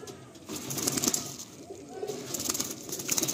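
A male Andhra pigeon coos softly at a pigeon sale, low throaty pulses rising and falling in short bursts, faint and fairly close, with no voices.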